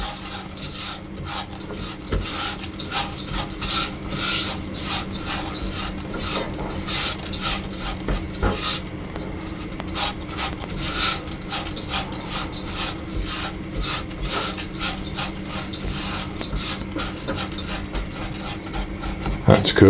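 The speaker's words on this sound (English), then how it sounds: "so I'll put the rice in and stir that around" A spoon stirs rice through melted butter in a pan, making steady scraping and rubbing with frequent clinks against the metal and a faint sizzle underneath, close and continuous.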